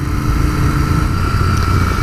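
Close, steady idle of a 2019 Royal Enfield Continental GT 650 twin engine, a continuous low rumbling throb with even loudness and no voices.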